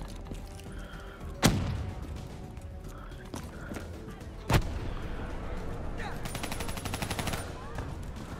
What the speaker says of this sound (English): Oh shit, grenade.